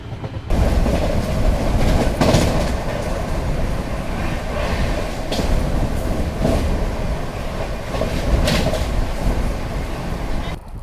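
A Secunderabad Duronto Express rolls along the rails near Sevagram, its steady loud rumble and rhythmic clickety-clack of wheels over track joints heard from inside the coach for the whole stretch.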